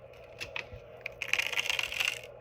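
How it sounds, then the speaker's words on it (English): Close, crinkly crackling from a stretched elastic band, a few short crackles followed by a denser rustling burst, with no voices. "I think I might need a new band because it's making this crinkly"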